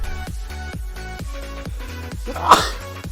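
A single sharp sneeze bursts out loud over the steady, repetitive jingling music of the Fortune Tiger online slot game.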